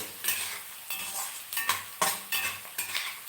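Onions frying in a pan, stirred in repeated scraping strokes over a steady sizzle, close and fairly loud with no voices.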